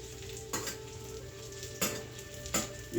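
Salted fish cakes frying in a pan give a steady close sizzle with three sharper crackling bursts spaced about a second apart.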